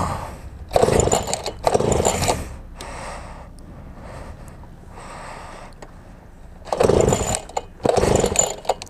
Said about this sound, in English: Now it won't start.